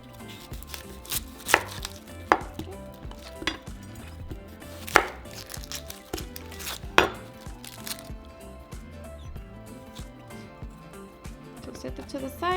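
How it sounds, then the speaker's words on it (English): A knife chops through an onion on a cutting board, quartering it with several sharp, distinct thuds spaced irregularly over a low background hum, close and clear. "now we're going to grab our onion and cut it into fourths"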